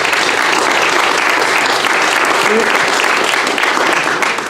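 Audience applause at an inauguration, loud dense clapping from a crowd sustained evenly throughout, with voices faintly mixed in.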